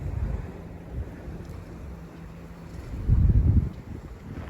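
Sea water surges and sloshes beneath rocks underfoot on Eagle Beach in Aruba, a steady low rumble with wind buffeting the microphone and a louder swell near the end.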